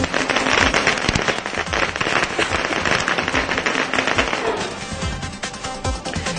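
Strings of firecrackers crackle and pop in dense, rapid bursts outside the AIADMK office in Chennai during a celebration, loud and close, thinning out toward the end.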